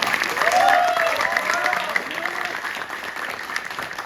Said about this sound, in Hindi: तो इनके लिए तालियां बजती रहनी चाहिए